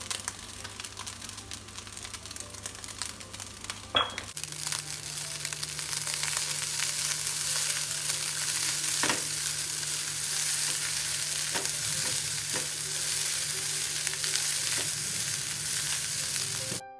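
Rendang-spiced fried rice with chili and scallions sizzles steadily in a hot pan, with occasional scraping and clinks of a spatula stirring, a low constant frying hiss throughout before it cuts off.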